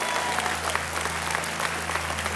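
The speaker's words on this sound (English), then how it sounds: "just give the Lord a hand clap of praise" A church congregation claps in praise during a worship service, a steady wash of many hands applauding throughout, slightly distant in a large room.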